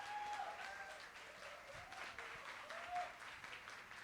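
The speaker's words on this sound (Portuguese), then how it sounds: "E vou pedir muitos aplausos, porque eu sei que vocês vieram, foi para ouvir essa mulher" An audience at an evening talk on motherhood applauds, a steady wash of many hands clapping at moderate distance, fairly quiet, with faint speech and chatter mixed in.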